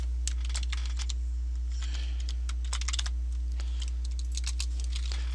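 Text is typed on a computer keyboard in quick, irregular bursts of sharp clicks with brief pauses between them, played over a loud steady low hum.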